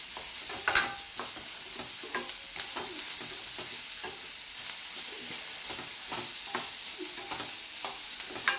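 Onion pieces fry in a pan with salt, a steady hiss of sizzling oil broken by light irregular stirring clicks, moderately loud and close, with no one talking.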